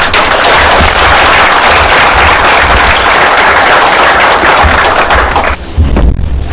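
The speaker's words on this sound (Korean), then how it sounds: "이원재 수석정책관님 큰 박수로 모시겠습니다" Loud, dense applause from a seminar audience at Sejong University welcoming a housing-policy official to the podium, sustained clapping that fills the room before cutting off near the end.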